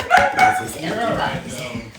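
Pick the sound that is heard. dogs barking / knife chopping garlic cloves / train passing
dogs barking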